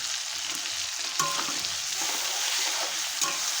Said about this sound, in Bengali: গরম মশলা দিয়ে আমি খুব ভালো করে নেড়ে চেড়ে নেব লাল করে